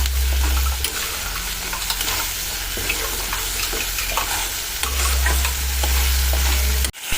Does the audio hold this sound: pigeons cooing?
no